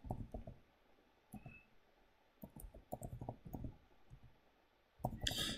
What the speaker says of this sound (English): So I'm going to type in my password here.